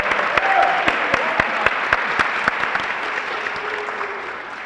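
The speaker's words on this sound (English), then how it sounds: "Give him a round of applause one more time" A high school spring band concert audience applauds drummer Anthony after his drum solo: dense, steady clapping filling the hall for several seconds, with a few sharper individual claps standing out near the front.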